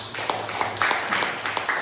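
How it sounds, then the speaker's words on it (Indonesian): An audience at a school gathering gives scattered, light hand claps, several sharp claps spread unevenly across a short burst of applause. "Tepuk tangan dulu"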